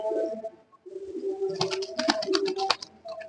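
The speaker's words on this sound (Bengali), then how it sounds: "দেখার মতো সুন্দর কবুতর" Silver pigeons cooing in a loft, a steady chorus of soft rolling coos from several birds close by, with brief wing flutters and scuffles in the background.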